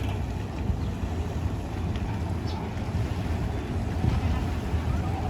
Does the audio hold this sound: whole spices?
no